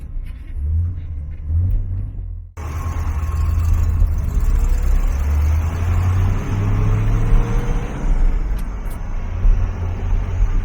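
A 1966 Chevrolet Corvette coupe with the L79 350-horsepower V8 drives along, its deep engine rumble loud and close after a brief quieter start, rising and falling with the throttle.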